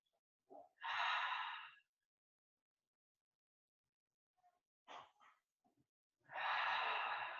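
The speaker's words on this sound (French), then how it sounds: "Inspirez par le nez." Slow breaths drawn in and let out through the nose during a guided stretching and relaxation session, two longer airy breaths framing a quiet gap with a few faint softer sniffs, close and gentle with no talking.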